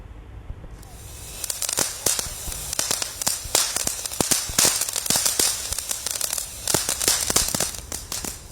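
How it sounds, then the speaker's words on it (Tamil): Firecrackers burst during a Diwali street celebration in Chennai, a dense run of sharp, loud cracks and pops going off rapidly one after another over a steady crackling background. "அந்த பட்டாசுகளானது வெடிக்கப்பட்டு கொண்டிருக்கிறது"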